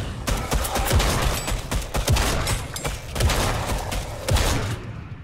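Rapid bursts of Fortnite gunfire crackle continuously during a Horde Rush match, with heavier thumping shots mixed in, like a hectic shootout with no voices.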